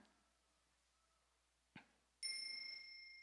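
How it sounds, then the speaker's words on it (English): A small meditation bell struck once, giving a bright sustained ring that slowly fades, preceded by a faint tap in a quiet room during a New Year's Eve gathering. "I'll invite the small bell for you."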